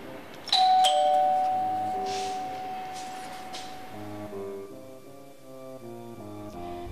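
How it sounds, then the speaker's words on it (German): A doorbell chimes once with a bright, ringing tone that slowly decays, followed by soft background music, with no voices. "dann klingelt bald der örtlich ansässige Geheimdienst an der Tür."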